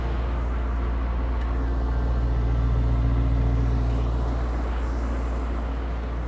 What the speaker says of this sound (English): And the exhaust note got a little more aggressive.